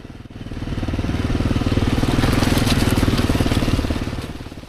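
A Honda motorcycle engine drones steadily while riding green trails, a buzzing, rapidly pulsing mid-pitched rumble that swells and then fades slightly, loud and close throughout with no speech.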